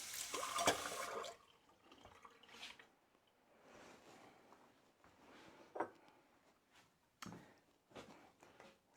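Water splashes and swishes inside a blender jar as it is rinsed out after blending corn chowder, with a loud burst of running water at first, then intermittent sloshing, clinks and drips.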